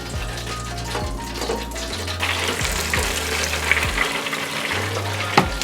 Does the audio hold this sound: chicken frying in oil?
yes